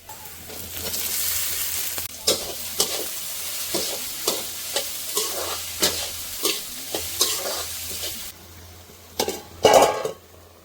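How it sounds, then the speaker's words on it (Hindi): Okra frying with onions in a pan, a constant sizzle under a regular series of spoon strokes scraping and clinking against the pan, ending with a louder clatter. "प्याज भुज गई अच्छे से, भिंडी डाल दे हम जल्दी से।"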